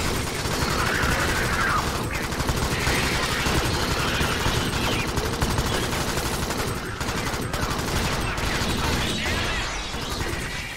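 Gunfire in the co-op alien shooter Alien Swarm, a dense and unbroken stream of rapid automatic shots mixed with mechanical clatter, loud and close the whole time with almost no gaps.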